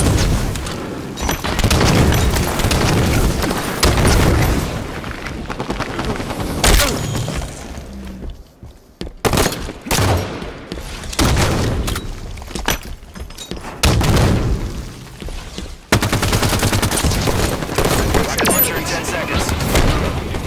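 Heavy gunfire and booming blasts from a Halo 5 arena match come in dense bursts with short gaps, loud and close throughout, with brief game voice callouts mixed in.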